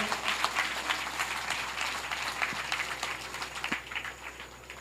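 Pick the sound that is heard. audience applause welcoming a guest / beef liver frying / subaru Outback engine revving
audience applause welcoming a guest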